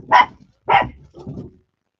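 An excited dog gives three loud, close barks in quick succession over two seconds, the last one softer and more drawn out, with no talking.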